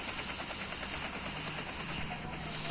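A helicopter flies in the Roblox video game, giving off a continuous whirring rotor drone with a faint pulsing beat, steady and fairly loud, with no one talking.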